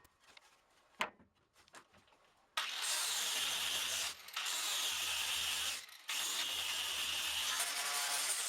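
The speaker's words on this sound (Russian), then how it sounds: "Снова очищаю винный камень и краску с обеих сторон с использованием все того же лепесткового наждачного круга и шлифмашинки." Angle grinder fitted with a flap sanding disc cleaning tartar and paint from both sides of an old oak barrel stave; after a few light knocks, a loud continuous grinding whine runs steadily with two brief dips, close and without talk.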